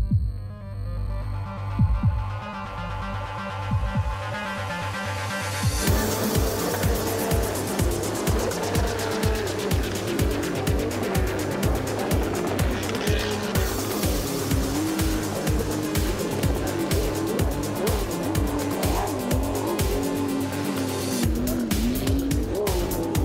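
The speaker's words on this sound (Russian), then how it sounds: "самые мощные аквабайки на воде" Powerful racing aquabikes (jet skis) at the 2009 Russian Championship in Moscow roar loudly on the water, their engines revving and throbbing in a steady pulsing drone that swells sharply after a quieter opening.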